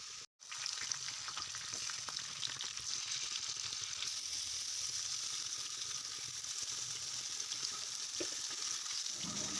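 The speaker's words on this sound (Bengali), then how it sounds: "তো আপনারাও এইভাবে মাংসটাকে কড়া করে ভেজে নিয়ে আর তেলের ওপরেই এটা সুন্দর করে এটা কষে নিতে হবে মাংসটা" Chicken pieces fry in hot oil for dum biryani with a dense, continuous sizzle and occasional stirring clicks, close and loud after a brief silent gap at the start, with no talking.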